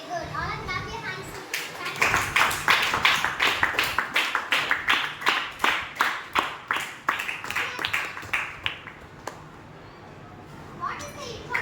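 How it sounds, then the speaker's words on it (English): A classroom of school students clapping their hands in unison, a long run of sharp rhythmic claps that builds then tapers off, with children's voices heard before and after. "All clap your hands."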